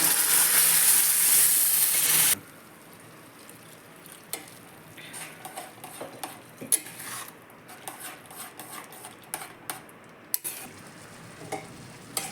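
Lentils tipped into a pan of fried onions for tamarind-leaf dal, opening on a loud burst of sizzling that cuts off sharply, followed by quieter scraping and clinks of a spoon stirring against the pan.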